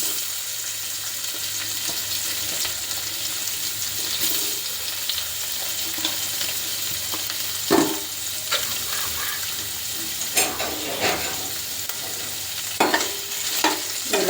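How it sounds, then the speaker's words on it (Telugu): Paneer pieces lightly frying in hot oil give a steady, close crackling sizzle with a few sharper pops and utensil taps scattered through, and no voices. "మనం ప్రిపేర్ చేసుకున్న పన్నీర్ ముక్కలు ఉన్నాయి కదా, ఇవి కొన్ని కొన్ని వేసుకొని లైట్గా ఫ్రై చేసుకోవాలి"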